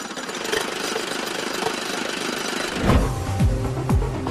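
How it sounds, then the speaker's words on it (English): A rotary swager machine reshapes aluminum baseball bat tubes over a mandrel between twin dies, making a loud continuous hammering rattle, joined near the end by a lower rhythmic mechanical thumping. "it's up to a machine called the rotary swedger to reshape each tube into a precisely"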